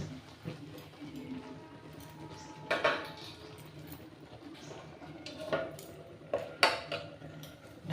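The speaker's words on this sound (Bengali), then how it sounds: "ঢাকাটা দিয়ে দিলাম।" A lid set onto a pot of cooking mango pickle, giving a few sharp metallic clanks and clinks spread over several seconds, close and moderately loud over a low background.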